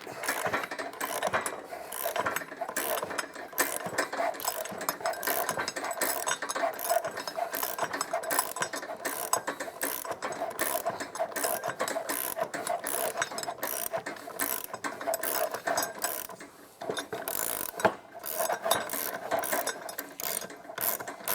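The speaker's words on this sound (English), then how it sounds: "The old tie rod puller with the socket trick." A ratchet with a socket on a tie rod puller clicks rapidly and steadily during a driver install, dense close-up metallic ratcheting that runs nearly continuously with brief pauses, no talk.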